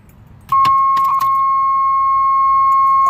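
Car keys jingle briefly with a few light metallic clicks inside a third-gen Camaro, while a steady, high-pitched warning chime starts and keeps sounding alone.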